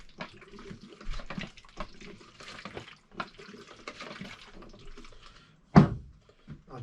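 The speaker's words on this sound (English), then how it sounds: "I'm doing a twisting action as I agitate the tank." A film developing tank is agitated by hand with a twisting action, giving soft sloshing of liquid inside in repeated strokes, close and fairly quiet, ending with a sharp knock.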